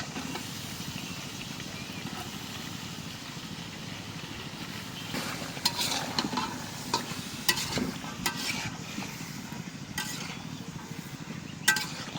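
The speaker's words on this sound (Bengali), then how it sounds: "মশলা ভালো করে কষাই নিলাম। দিয়ে দিলাম ডাটা আর আলু।" Stems and potatoes sautéing with spices in a pan, a continuous close sizzle with scraping stirs and occasional louder clatters toward the end, no talk.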